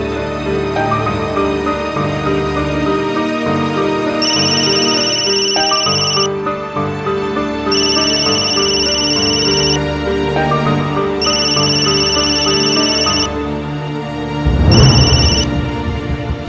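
A phone rings on an outgoing call in a Hindi Doordarshan serial scene, with repeated electronic ringback bursts spaced evenly over steady background music and ending in a short louder burst.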